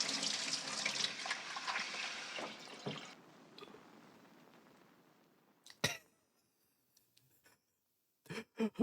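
Tap water runs from a faucet for a few seconds while soaked miyeok seaweed is rinsed in the kitchen, with a steady close splashing gush that fades to a trickle. A cough and a few brief vocal sounds come near the end.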